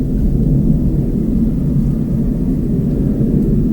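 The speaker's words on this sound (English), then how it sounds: "There's a plane passing by." An airplane passes overhead as a loud, steady, low rumbling roar with a broad noisy hiss. It fills the whole stretch evenly, with no speech over it.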